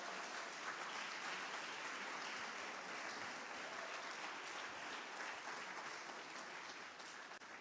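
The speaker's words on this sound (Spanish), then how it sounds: "les damos un fuerte aplauso a los que nos están siguiendo por transmisión" A Sunday congregation meeting gives a sustained round of applause, even and fairly faint from across the room, with no voices on top.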